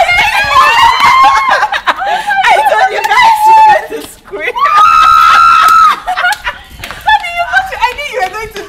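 A woman screams in surprise at a house visit, the high, sustained shriek rising loud and close amid excited chatter, laughter and several voices talking over each other.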